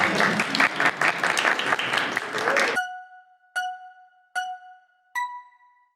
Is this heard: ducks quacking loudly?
no